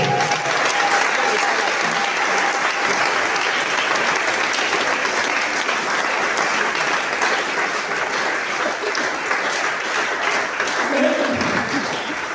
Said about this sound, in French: On donne des acclamations à notre Dieu.